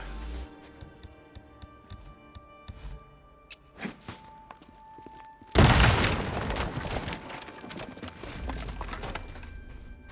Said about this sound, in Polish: Chyba muszę wysadzić sobie drogę.